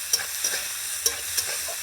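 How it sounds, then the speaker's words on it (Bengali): Onions fry in oil for a soya chili masala, giving a steady soft sizzle broken by four or five sharp spatula clinks and scrapes as the pan is stirred, with no talking. "এই যে পেঁয়াজ ভাজা হচ্ছে"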